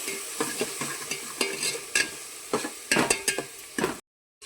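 Spices for chhole masala cook in oil in a pan on low flame, a soft sizzle broken by rhythmic scraping stirs of a spoon, close and clear, cutting off abruptly near the end.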